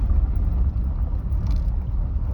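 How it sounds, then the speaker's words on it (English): A car passes on a rural road near turkey-hunting fields, its low tyre and engine rumble steady and fairly close for a couple of seconds. "Here comes a car."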